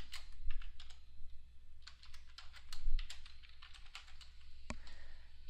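Someone types on a computer keyboard, entering a name for a new build configuration: bursts of quick, light key clicks in uneven clusters, close and fairly quiet, ending with a single sharper keystroke.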